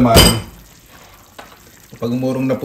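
Annatto seeds fry gently in oil over low heat, a soft sizzle after a sharp opening clatter, then a stretch of quiet frying before a voice briefly comes in near the end.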